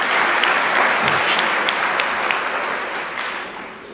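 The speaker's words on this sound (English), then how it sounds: "I thought you would clap hands for those." An audience at a university graduation ceremony claps steadily, a dense patter of many hands that slowly fades toward the end.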